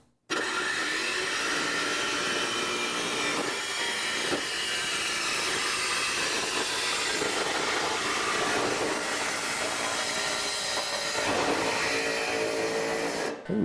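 A jigsaw cutting through sheet metal roofing along an angled curve: a loud, continuous harsh hiss and buzz that holds steady for the whole stretch, close up, with no talking.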